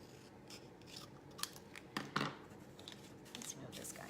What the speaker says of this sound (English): And then I'm going to cut this in half.